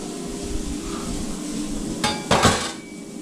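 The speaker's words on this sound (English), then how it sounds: "I'm gonna scrape this off and into the trash can." A scraper pushes leftover breakfast food off a kitchen pan into a trash can lined with a fresh bag, with a couple of sharp scraping and knocking bursts near the end over quiet kitchen background.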